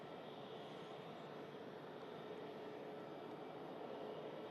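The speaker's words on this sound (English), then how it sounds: "Further quick taxi from the Pegasus." A Pegasus airliner inbound from Istanbul taxis at Manchester Airport, its engines a faint, steady, distant broadband rumble with no voices present.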